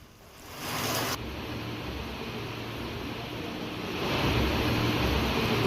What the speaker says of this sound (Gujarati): રાજુલામાં ધોધમાર વરસાદ, પવન સાથે વરસાદ વરસી રહ્યો છે।